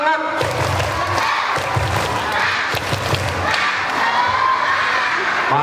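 A group of children at an Islamic storytelling session do a spirited clap chant, rhythmic thudding claps mixed with loud shouted voices in unison, close and energetic throughout.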